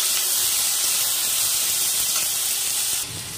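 Green chilies and chopped ginger fry in hot oil in a pan for a palak paneer base, giving a steady, close, loud sizzle that holds throughout before dropping slightly in level near the end.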